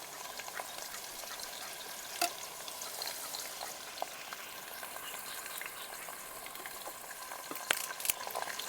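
Chicken pieces coated in turmeric and salt frying in oil in a pot on a boat in a pond, a steady soft sizzle with scattered crackles and pops and occasional stirring clatter.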